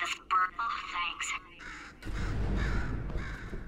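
A bird caws in the Portal 2 video game, several harsh calls in quick succession up front, followed by a low rumbling game ambience; faint voice-like sounds mingle with the calls.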